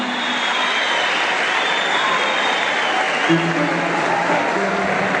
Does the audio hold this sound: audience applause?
yes